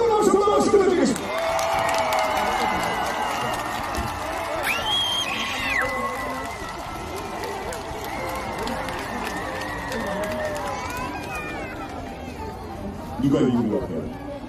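A big crowd at an outdoor concert in Suncheon cheers and applauds loudly and steadily as a singer takes the stage, with screams and shouts over dense clapping and a voice rising above it near the end.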